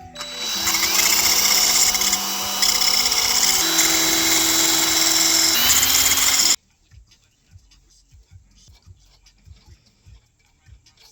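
A power tool whines loudly and steadily for about six seconds while unscrewing a part during a Honda Civic 8th gen part-out, with a brief dip in pitch partway, then cuts off abruptly, leaving faint clicks and handling noise.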